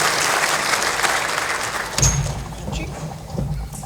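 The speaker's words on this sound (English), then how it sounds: "Let's give them all a big round of applause." Applause from an audience at a county event for its sponsors, steady and fairly loud, fading after about two seconds with some murmuring and a voice underneath.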